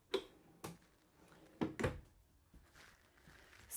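Several drawers, including a cutlery drawer, slide and thunk shut one after another in a 2025 Timber Ridge 26KVS travel trailer, sharp knocks spaced irregularly in a quiet room.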